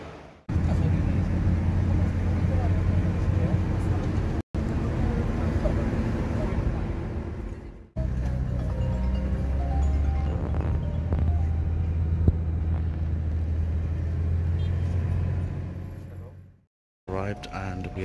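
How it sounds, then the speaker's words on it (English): A minibus carries passengers toward a hotel in Makkah; a steady, close low engine and road rumble fills the cabin, broken by a few abrupt cuts and fading out near the end. "so now we're going to the car, or the minibus, and heading towards the hotel"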